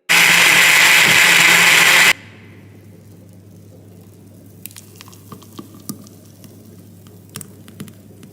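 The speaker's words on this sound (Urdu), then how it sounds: "اور اس کے بعد اس کو بلینڈ کر لیں گے." An electric blender whirs loudly for about two seconds while blending masala guava juice with water, then cuts off abruptly, leaving quiet room tone with scattered light clicks and taps.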